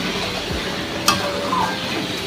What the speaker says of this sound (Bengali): আলু দিয়ে বসিয়ে কষাচ্ছি